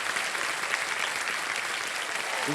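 A studio audience at the Kaun Banega Crorepati Junior game show bursts into applause, a dense, even wash of clapping that stays loud and steady from start to finish.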